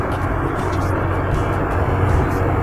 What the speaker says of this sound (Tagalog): Hindi nahihirapan yung makina.